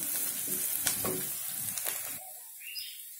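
Onions frying with a pinch of salt in a pan give a crackling sizzle with stirring scrapes for about two seconds before cutting off, leaving faint high chirps.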